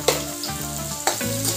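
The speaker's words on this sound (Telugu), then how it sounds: "ఇవి కూడా ఎర్రగానే వేగనివ్వాలి" Onions frying in a pan with salt for a bitter gourd and tomato curry, a loud, steady close sizzle with a couple of sharp stirring clicks and no talk.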